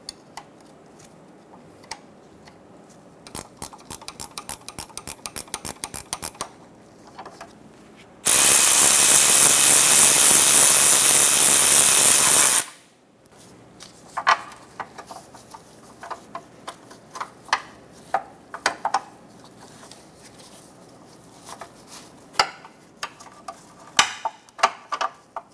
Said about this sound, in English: Using a 14 millimeter wrench,